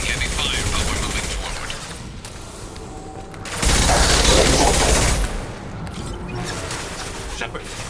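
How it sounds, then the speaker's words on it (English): Heavy gunfire and combat noise in the sci-fi game Mass Effect during a suicide mission assault, with steady battle din that swells into a louder burst in the middle before easing back. "We're taking heavy fire"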